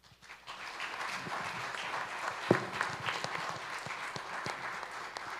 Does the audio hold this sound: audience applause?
yes